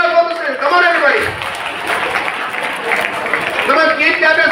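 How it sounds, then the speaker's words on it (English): Applause from an audience at a welcome event, a burst of clapping from many hands that sits under a speaking voice at the start and end, fairly loud and close. "Let's give a big round of applause to him."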